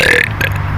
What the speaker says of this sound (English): What kind of soft belch is that?